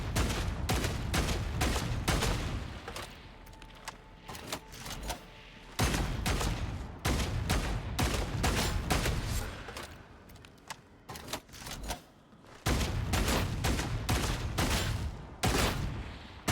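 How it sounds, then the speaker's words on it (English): Rapid gunfire from a berserker-build weapon in a video game, shot into the ground to hit a horde of small enemies; loud, dense bursts of repeated shots separated by short pauses. "See, I'm shooting at the ground, right?"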